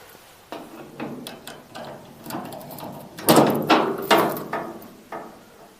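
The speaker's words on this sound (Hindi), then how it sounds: "खोल रहा हूं मैं ये दरवाज़ा।" An old door being worked open, a series of knocks, scrapes and creaks in an irregular rhythm, growing louder and harsher toward the middle before tapering off, with no voices over it.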